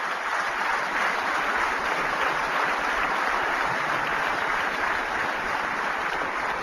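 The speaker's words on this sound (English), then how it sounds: "I want to give them a big clap." An audience at a WHO immunization campaign event applauds vaccination teams with dense, sustained clapping that stays steady and loud from start to finish.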